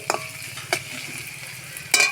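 Ash gourd frying in a pan, a constant soft sizzle with three sharp bursts from stirring strokes, close and with no speech.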